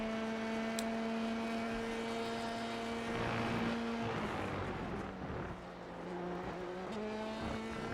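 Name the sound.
late downshift of an F3 race car in a racing simulator game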